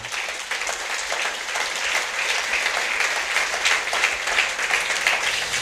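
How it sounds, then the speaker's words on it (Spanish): A church congregation at a Spanish-language sermon on Genesis breaks into sustained applause, a thick, continuous patter of many hands clapping at an even level throughout, with no voices standing out. "Démosle un aplauso al Señor, hermano."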